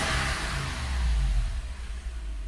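A Toyota FJ100 Land Cruiser engine running smooth after repair, a low steady rumble with a faint rise in revs, heard close and alone.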